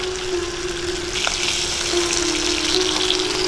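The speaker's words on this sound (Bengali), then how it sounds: "মাছগুলো এপিট ওপিট করে ভেজে নিয়েছি" Fish sizzling as it fries in hot oil in a pan for a spicy Bengali fish and egg curry, a steady close crackle with a faint tonal hum underneath and a few brief bumps of the pan, no talk.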